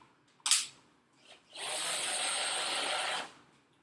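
A cordless drill on a low torque setting drives a screw into plastic during assembly: a brief click, then a short whir, then about two seconds of steady motor buzz before it stops, close and fairly quiet.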